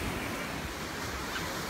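Sea waves washing onto a beach at a Turkish resort, a steady broadband rush heard faintly and briefly with some wind noise, no voices.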